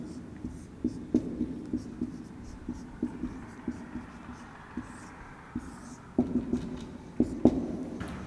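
Chalk tapping and scratching on a board during a classroom lesson, a steady run of short strokes and taps, close and fairly clear, with faint whispery voice sounds in the background.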